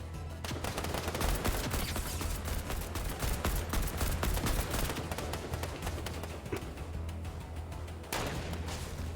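Video game gunfire crackles in dense, rapid bursts, with shots piling up almost without a break for several seconds, fairly faint and without any talking.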